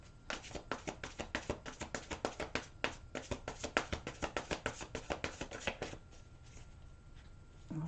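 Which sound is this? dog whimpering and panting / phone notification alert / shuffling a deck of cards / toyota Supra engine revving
shuffling a deck of cards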